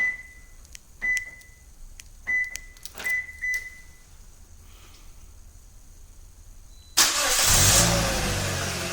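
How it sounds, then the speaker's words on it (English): Several short electronic chirps as a Toyota's doors are locked three times, followed a few seconds later by the engine cranking by remote start and catching into a steady, loud idle. "Our engine is going to start."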